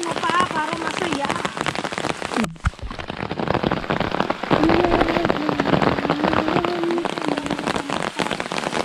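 Heavy rain in rural Occidental Mindoro drums down in a loud, continuous rush on surfaces, briefly cut by a sharp knock, with people speaking over the downpour.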